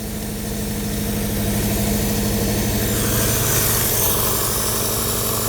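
A 1955 Metropolitan car engine, a barn find with a suspected fuel pump fault, idles steadily with a close, even, throbbing mechanical rhythm and no talking.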